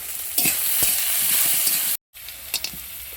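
Fried potatoes sizzling in a pan as garlic paste is added, a loud, steady hissing fry close by with a few stirring clicks. The sound cuts out briefly, then resumes.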